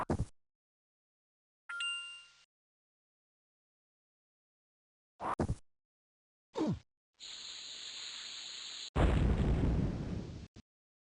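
Sound effects from the video game Lode Runner: The Legend Returns, including a bomb explosion: separate short pops and a chime, then a sustained buzzing tone followed by a loud, noisy blast that cuts off abruptly, all against digital silence.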